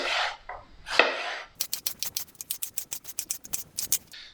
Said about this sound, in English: Just going to chop this into some little strips.